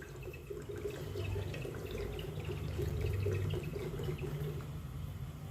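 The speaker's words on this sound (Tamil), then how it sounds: "பாத்திரம் ஹீட் ஆகிடுச்சு, எண்ணெய் ஊற்றிடலாம்." Cooking oil poured into a heated pot while making coconut milk rice at home, a steady liquid trickle and splash lasting several seconds over a low continuous hum, with no talking.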